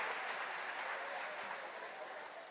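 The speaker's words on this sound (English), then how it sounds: "How many people were born before 1977? Just by round of applause." An audience at a fourth-grade choral festival in McAllen gives a faint, distant round of applause, a steady, even patter of many hands that fades slightly toward the end.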